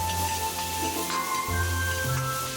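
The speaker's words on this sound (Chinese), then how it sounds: "下姜蒜米、青红小米辣，一起爆炒出香味儿。" Ginger, garlic and green and red bird's eye chilies stir-fried in a little lard in a hot wok, a close, steady sizzle with bright tones and a short scrape of stirring partway through.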